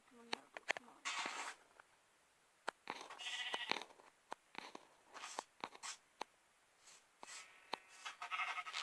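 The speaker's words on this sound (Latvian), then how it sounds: "Labi, es atradu ļoti daudz aitas." Sheep in Minecraft bleat in short, quiet, scattered calls among clicks and game sounds, spaced irregularly across a fairly hushed stretch, with soft voices talking intermittently underneath.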